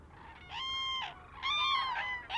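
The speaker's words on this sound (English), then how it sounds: "indeed the birds do call loudly when they sight the lagoon" Cranes stopping over at a lagoon give loud, rising honking calls in two close bursts with a short pause between, alone and close by.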